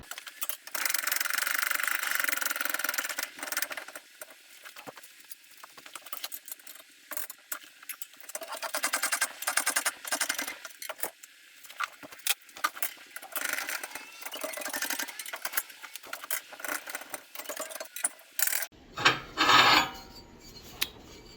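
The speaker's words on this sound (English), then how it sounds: "that bender works pretty good and made pretty short work of making that bracket" Press bender working a steel bracket for a front axle: a long grinding, rasping mechanical run with intermittent scraping and clanks, ending in sharper metallic clatter, close and fairly loud with no speech.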